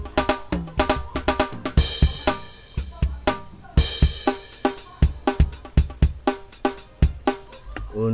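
Drum kit recorded dry in Cakewalk with reverb and compression switched off, playing a steady groove of punchy kick and snare hits with cymbal crashes, loud and close, no voices.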